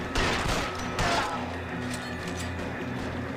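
A gunfight in L.A. Noire: two sharp, loud gunshot cracks early, then scattered fainter shots and rattling impacts under a low game ambience, with no speech.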